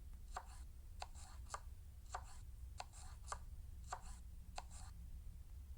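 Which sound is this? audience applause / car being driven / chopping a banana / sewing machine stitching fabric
chopping a banana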